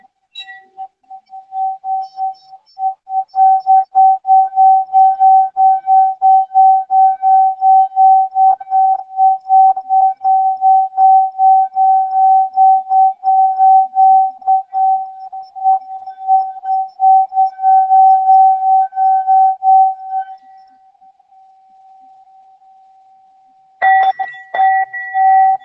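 A Tibetan bell rung before a prayer sustains a loud, pure ringing tone that pulses in a fast, steady wobble for about twenty seconds, fades to a faint hum, then swells again briefly at the end.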